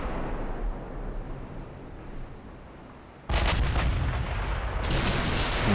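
Battleship main guns, including big 16-inch guns, fire in the naval video game UA: Dreadnoughts during a German campaign battle: a low rumble, then a sudden loud blast with a booming tail and a second heavy report shortly after.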